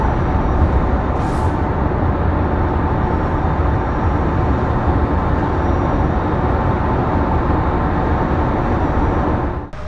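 Tesla Model Y drive unit whining at about 65 to 66 mph on the highway, buried in a steady, loud cabin roar of road and wind noise that runs unbroken throughout.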